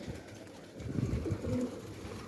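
Van pigeons coo softly at a loft, making faint low murmuring calls that rise slightly midway, heard alone without talk.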